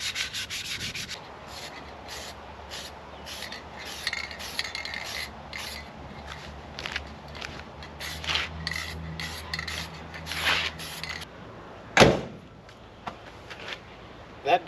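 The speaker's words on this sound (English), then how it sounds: "I just want to sand them out, so I'll give them a quick scuff." Sandpaper scuffs over car trim on a Holden GTS Monaro in repeated short rasping strokes, close and steady, with a sharper knock partway through and a few quiet pauses between bursts.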